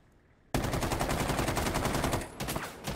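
Sudden burst of rapid automatic gunfire in the video game Rainbow Six Siege, loud and continuous for a couple of seconds, pausing briefly before resuming, with no voices over it.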